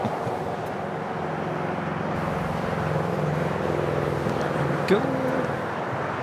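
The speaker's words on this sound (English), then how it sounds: "There we got Japan, the Dreamliner rolling down 25 right." A Japan Airlines Boeing 787 Dreamliner rolls down runway 25 right at Los Angeles International Airport, a steady, fairly loud jet engine roar, with a brief spoken word from a nearby person over it.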